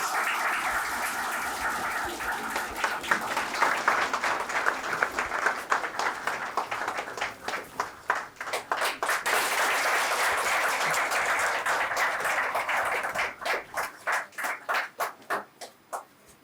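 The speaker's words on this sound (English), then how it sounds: "Please welcome with them with a big round of applause." An audience at an IAS anthropology-optional seminar applauds to welcome guests being felicitated, sustained group clapping that thins into scattered individual claps before dying away.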